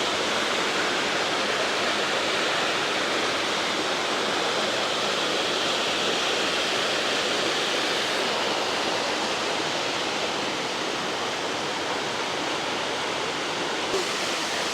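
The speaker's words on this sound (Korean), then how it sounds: "와 폭포 대박" A summer mountain-valley waterfall on Dobongsan pours in a constant, loud roar of rushing water that holds steady throughout, close by and alone, with no voices over it.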